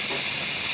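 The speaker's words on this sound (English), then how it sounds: "Steam, working well." Steady, loud hissing from the steam wand of a Breville 990 Oracle espresso machine, a close, continuous rush of steam with no pauses.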